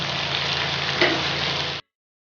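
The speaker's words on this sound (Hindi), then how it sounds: "अब हम इसमें सब्ज़ मिर्च डालकर इसकी भुनाई करेंगे।" Chicken karahi with green chilies frying in a wok, a dense, even sizzle close and loud with one brief stir in the middle, cutting off abruptly.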